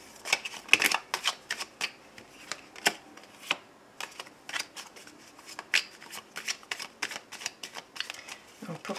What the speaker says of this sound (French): je remets des cartes.